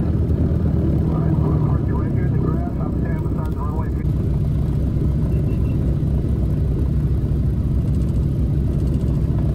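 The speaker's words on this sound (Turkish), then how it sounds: "şu radyal motorların sesini biraz dinleyelim isterseniz" Radial engines of a 1936 Lockheed Model 12 taxiing at an untowered airfield throb in a loud, steady, close rumble with a pulsing low beat, a voice talking over them.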